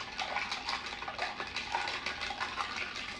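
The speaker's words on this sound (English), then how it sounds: "I'm stirring." Ice clinks and rattles rapidly and steadily against a mixing glass as a Double Manhattan cocktail is stirred, making a close, continuous jingling.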